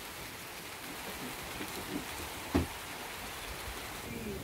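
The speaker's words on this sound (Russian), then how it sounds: "Прямо стеной белой стоит" Steady rain falls in a soft, even hiss, with a single sharp tap breaking through near the middle.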